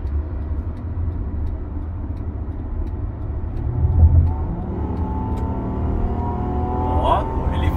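A Honda Accord 3.5 V6 accelerating hard, its engine note climbing steadily in pitch over several seconds under a continuous rumble, with a brief voice.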